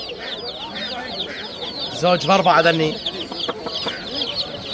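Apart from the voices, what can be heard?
Turkish Atak chicken chicks clucking at a market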